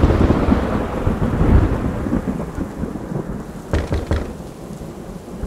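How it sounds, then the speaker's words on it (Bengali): Heavy rain pours down with deep rumbling thunder, a loud continuous downpour with low rolling booms that swell and fade, no voices present. "তুমুল বৃষ্টি পড়া শুরু হয়েছে।"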